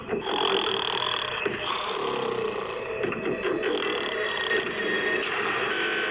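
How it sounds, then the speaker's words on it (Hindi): A man snores in a prison cell, with rough, rasping breaths that repeat in uneven bursts, loud and close, mixed with faint creaks and rattles. "वो स्टूपिड कॉप सारी रात खर्राटे मारता रहा।"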